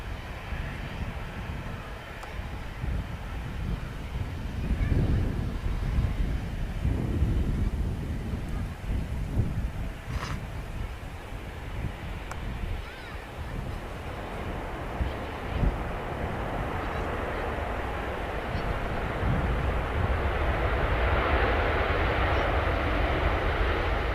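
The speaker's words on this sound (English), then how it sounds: "I'm going to get the landing of the Dreamliner. It's just touching down." A Boeing Dreamliner airliner touching down at Manchester Airport gives a broad distant roar that swells and holds as reverse thrust builds, mixed with wind buffeting on the microphone and no speech.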